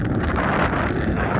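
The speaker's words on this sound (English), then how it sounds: "There's a brisk breeze or wind." A brisk breeze blows into an outdoor microphone, a continuous loud rumbling buffet that swells and dips without a break for the whole moment.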